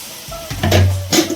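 Water is poured into a brinjal and egg curry cooking in oil in a pan. It gives a short hiss and sizzle with a faint clink of utensils, heard close up with no voices.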